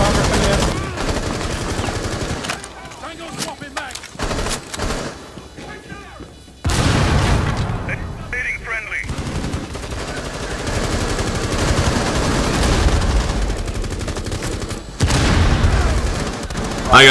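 Heavy automatic gunfire and explosions in a Rainbow Six Siege Terrorist Hunt on the Kanal map, with long rattling bursts, booming blasts and brief lulls, loud and close throughout, with a player's voice breaking in at times.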